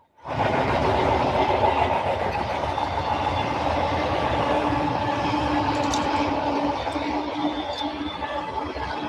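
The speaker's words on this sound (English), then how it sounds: "this train is solid international intermodal containers bound for the port of Los Angeles and Long Beach" A BNSF intermodal freight train of international shipping containers rolls past on the steep mountain grades of the Southern Transcon. It makes a loud, steady rumble and wheel clatter close by that holds for the whole stretch, with no voices.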